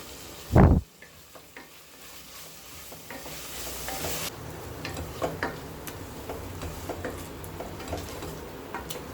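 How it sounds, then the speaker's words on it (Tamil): Spice mixture of chilli powder, coriander powder, garam masala and salt sautéing in a pan for kuska, giving a steady soft sizzle with light stirring scrapes and ticks throughout, after a brief louder clatter at the start. "இப்போ எல்லாத்தையும் சேர்த்துட்டு நல்லா வதக்கியாச்சு."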